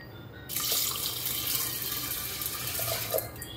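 Water gushes from a glass into a pressure cooker holding masoor and toor dal, starting abruptly as a loud, steady pour that runs for about three seconds before easing off.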